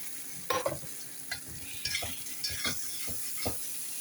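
Paneer fries in a pan for a palak paneer dish, with soft sizzling under repeated scraping and stirring strokes of a utensil against the pan, heard close and fairly quiet.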